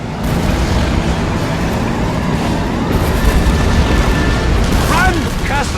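A facility blowing up in The Saboteur video game: a loud, sustained rumbling roar that fills the whole stretch without letting up, with a few brief chirping tones near the end.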